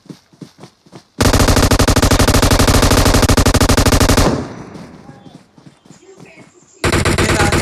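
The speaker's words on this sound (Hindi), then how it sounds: "कहाँ से चल रही गोलियां?" Loud, sustained automatic gunfire from a shooting video game rattles nonstop for about three seconds, drops into quieter scattered noise, then a second heavy burst cuts in near the end.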